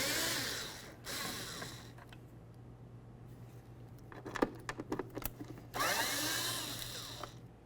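Power tool whirring in two sustained bursts, backing out the two 8mm tail lamp bolts on a 2006-2010 Ford Explorer with the tailgate raised; a cluster of clicks and clinks sits between the runs, all fairly close and moderate in level.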